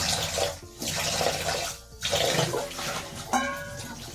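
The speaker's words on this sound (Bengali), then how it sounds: "থালা বাসনগুলো মাজা" Dishes being scrubbed and rinsed under a running tap in a home kitchen, a steady splashing rush with brief pauses and clinks, close and moderately loud.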